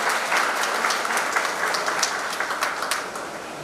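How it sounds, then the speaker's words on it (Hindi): Audience members at a community association's annual general meeting keep up a continuous, even wash of clapping for students' high marks, dense and moderately loud with no pauses. "बस तालियां।"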